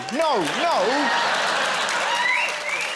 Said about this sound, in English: Why are you cheering that?